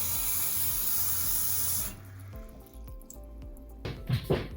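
A kitchen tap runs steadily into a measuring cup for coffee making, a hissing stream for about two seconds, then stops, leaving faint drips and small clinks.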